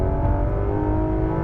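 Porsche GT3 RS engine under hard acceleration on a race track at Las Vegas, a loud, steady, close mechanical roar with a sustained whirring tone and no voices.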